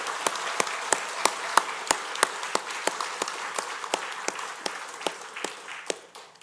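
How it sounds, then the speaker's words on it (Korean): Church congregation at a dedication thanksgiving service clapping in unison, sharp rhythmic claps at a steady beat, loud and close, slowing slightly toward the end. "우리 박수로 하나님께 영광 올려드리겠습니다"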